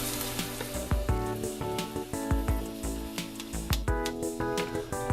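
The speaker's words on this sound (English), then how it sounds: "just letting that oil soak in that garlic flavor, and you can see it's starting to brown up a little bit" Garlic cloves frying in olive oil in a pan, giving a steady, soft sizzle with small crackling pops, mixed with tonal background sounds and no talk.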